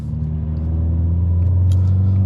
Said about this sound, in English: that gives me the aggressive engine, that gives me the aggressive transmission, that gives me the exhaust note